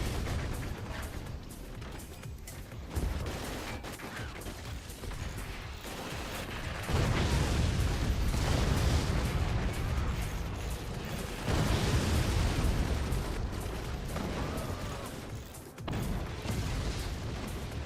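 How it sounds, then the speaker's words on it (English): Cannons fire and shells explode in the Forts strategy game, a dense run of loud booms and crashing blasts that swell and recede in waves with no break. "And that's a cannon."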